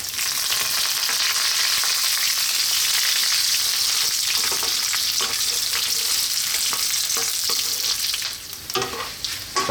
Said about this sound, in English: And then our curry leaves. Now these can be quite noisy